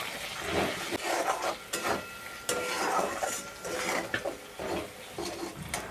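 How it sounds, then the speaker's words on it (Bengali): Spatula scraping and stirring spices sautéing in a pan for egg and potato curry, a steady run of scraping strokes and clinks over soft sizzling, close and moderately loud, with no talking. "এবার সব কিছু সুন্দর করে একটু কষিয়ে নেবো"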